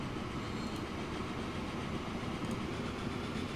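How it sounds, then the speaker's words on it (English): A train rumbles past in the Transport Fever video game, a steady, dense rolling roar of wheels and engine with faint clicks, close and continuous, no talk over it. "Ooh, there goes another train."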